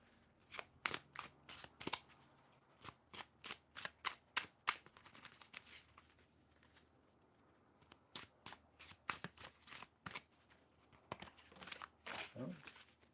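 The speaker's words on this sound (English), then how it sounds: "the card that jumped out of the deck while I was shuffling" A deck of tarot cards is shuffled by hand, heard as close, crisp riffling bursts in quick irregular runs with a short pause in the middle.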